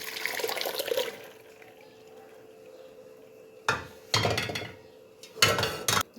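Water poured over fresh paneer in a cloth-lined strainer set on a vessel, heard as a few separate loud gushing splashes, the first soft and the later ones strong and close, with quiet pauses between.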